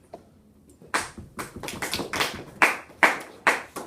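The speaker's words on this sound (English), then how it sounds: "Applause." Applause in a classroom, heard as a short run of crisp, evenly spaced claps from one or a few people, growing steadily and fairly close, with no talking.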